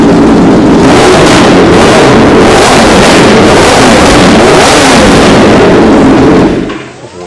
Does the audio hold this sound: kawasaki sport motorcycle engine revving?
yes